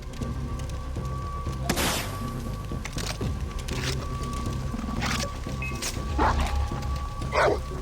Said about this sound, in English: Doesn't work quite as well against the dog, though.